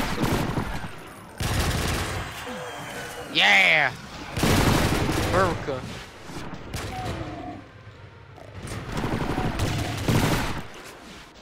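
A PPSh submachine gun fires in a co-op video game, loud bursts of rapid gunfire broken by pauses, with a player shouting excitedly over the shots.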